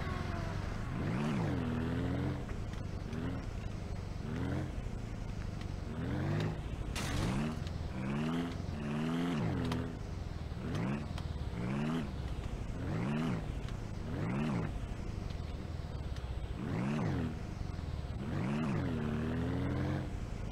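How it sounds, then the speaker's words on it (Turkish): A vehicle engine in Ranch Simulator revs again and again in rising and falling swells, loud and steady throughout, with no pause between the repeated throttle bursts. "Şöyle bir çalıştır abi motoru."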